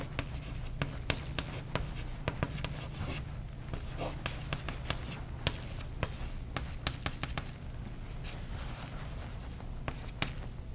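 Marker or chalk writing on a board during an engineering lecture on adaptive and iterative learning control, close and crisp with quick irregular taps and scratching strokes over a steady room hum, and a lecturer speaking faintly.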